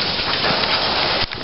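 Sleet falling steadily outdoors on Christmas Day, a dense, even hiss of icy pellets striking the ground that continues throughout, with a brief dip near the end.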